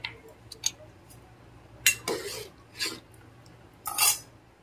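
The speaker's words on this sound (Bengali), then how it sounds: "এবার সিদ্ধ হওয়ার জন্য ভালো করে ফোটাতে হবে আর নেড়ে চেড়ে নিতে হবে অনবরত" A spoon stirring boiling bhoger khichuri in a pot, giving a few sharp scraping and clinking taps against the vessel, sparse and close, over a faint low hum.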